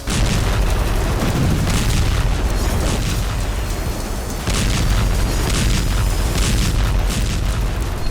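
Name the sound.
explosions from tank shelling and guided missiles in Gaza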